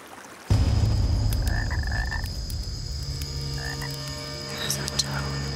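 A toad croaks close by in an outdoor survival setting, short throaty calls repeating over a steady noisy background, with no speech.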